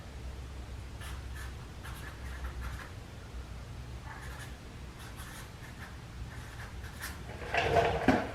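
A pen scratches handwriting onto paper in short, quiet bursts separated by brief gaps, with a louder rustle of paper near the end; no one speaks.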